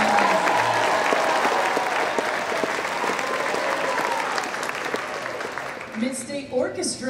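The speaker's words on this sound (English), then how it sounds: "Give them a big round of applause." Applause from an audience for the Mid-State Jazz Band, steady dense clapping filling the room for about six seconds before thinning into scattered claps and murmuring voices at the end.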